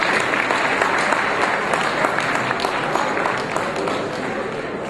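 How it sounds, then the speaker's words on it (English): Dense, steady applause fills the hall at an awards dinner, many hands clapping together and fading slightly toward the end, with some voices mixed into the crowd. "Everybody, let's give a round of applause to Dr. Moreno Skionis."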